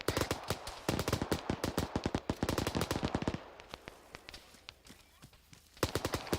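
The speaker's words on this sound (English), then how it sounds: "get some suppressive fire on that. I'm using the 50." A heavy .50 calibre machine gun in a military shooter game hammers out bursts of loud, evenly spaced shots, with a pause and fainter distant fire in the middle before the heavy bursts resume.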